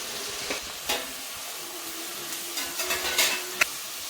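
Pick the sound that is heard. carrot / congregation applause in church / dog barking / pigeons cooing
carrot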